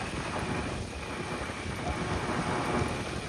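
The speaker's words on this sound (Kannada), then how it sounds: "ಮಳೆ" Steady heavy rain pours on the road from Agumbe in the Western Ghats, a dense continuous hiss with low rumbling that may be distant thunder, buffeted by wind noise on the microphone.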